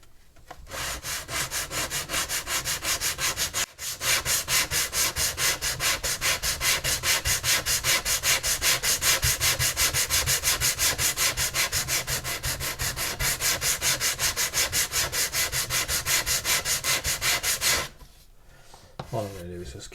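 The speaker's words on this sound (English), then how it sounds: "All I'm going to do is just keep sanding until these square sections all just flow smooth into these sections of the stern." A wooden stern on a model of HMS Victory is sanded by hand, giving rapid, rhythmic, close scratchy strokes that run steadily for about fifteen seconds, with a brief pause early on and quiet at the end.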